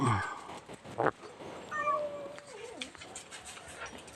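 Several cats meow at feeding time at a Thai temple, one loud close cry followed by thinner, higher meows from others nearby over a busy background.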